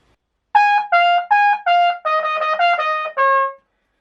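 A brassy trumpet plays a short melody of eight detached notes from a song, clear and close against silence, ending on a slightly longer final tone.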